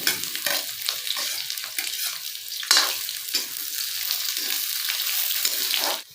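Onion and bay leaves fry in hot oil for an egg curry, a continuous close sizzle with occasional stirring scrapes and a brief louder crackle midway, steady throughout without talking.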